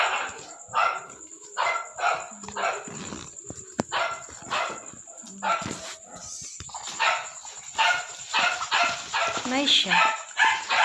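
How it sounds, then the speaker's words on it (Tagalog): A pet dog barks repeatedly at close range in a home, sharp yips coming in a rapid irregular series mixed with whimpers, while a person talks over it. "Ito yung aso ko."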